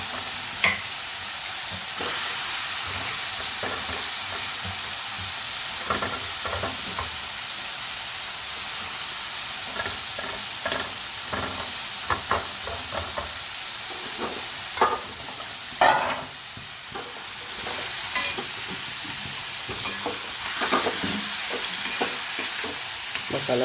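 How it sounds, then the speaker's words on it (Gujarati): Spinach stirred into fried masala in a pan while cooking potato poha, with a steady sizzle and hiss under scattered spoon scrapes and stirring clatter, close and continuous. "મસાલામાં પાલકને પણ ચડવા દઈશું આપણે."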